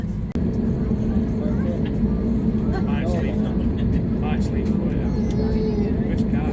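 Steady, loud engine drone and ventilation hum inside a Jet2 airplane cabin parked on the ground while waiting to take off, with a brief click near the start and faint chatter mixed into the continuous rumble.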